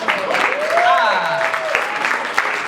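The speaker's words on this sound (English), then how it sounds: "My friends, make some noise for yourself now" A crowd at a Toronto Black History Month jam session event claps and cheers loudly and continuously, with a tonal sweeping sound and scattered shouts mixed into the sustained applause.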